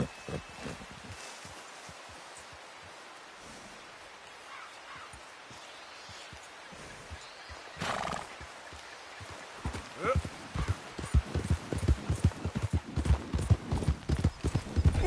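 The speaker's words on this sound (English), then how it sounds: "Hey, control that horse!" Horse hooves pounding in Red Dead Redemption 2, starting faint and distant, then growing into loud, rapid galloping beats in the latter half, with a brief neigh and some voices in the mix.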